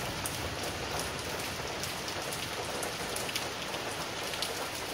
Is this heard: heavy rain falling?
yes